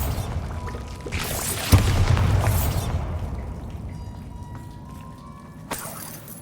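Bombarda blasting spell exploding in a Hogwarts video game, a loud sharp blast with a shattering crash that decays over a couple of seconds, then a second burst near the end.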